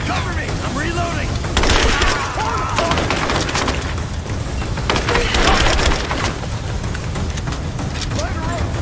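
Gunfire crackles in the action game Rise of the Tomb Raider, with two dense bursts of rapid shots among scattered cracks while in-game voices call out over the firefight.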